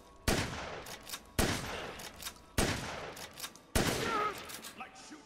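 Four heavy, booming gunshots from Dead Rising Deluxe Remaster on PS5, evenly spaced about a second apart, each with a long ringing decay and some faint clatter between them.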